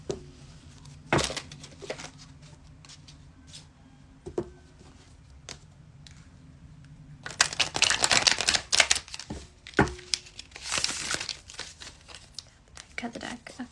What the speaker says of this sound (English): Shuffle again, please.